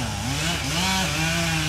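A chainsaw engine drones steadily at close range at a protest camp on the A69 motorway route in France, its pitch rising and dipping slightly as it revs, loud and continuous throughout.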